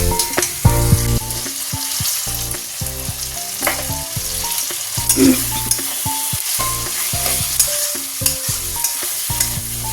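Spices sizzle steadily in a hot pan while a spatula scrapes and stirs in a rhythmic series of clanks, loud and close with no talking.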